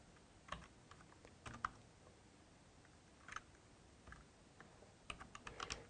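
Someone types on a computer keyboard with scattered, quiet keystrokes and a quick cluster of clicks at the end, heard close against a faint hiss.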